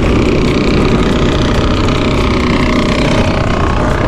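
A motorcycle engine drones loud and steady while riding through town in Kota Bharu, with rushing wind noise over the continuous engine sound.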